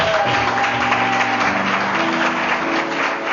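A church congregation breaks into loud, sustained applause and acclamation, a dense wash of clapping with voices mixed in throughout.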